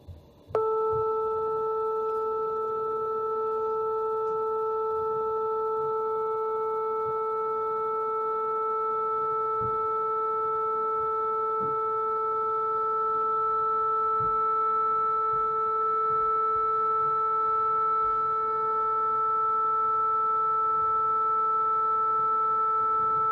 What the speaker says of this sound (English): let's see A equals 440 hertz again with a bit more zooming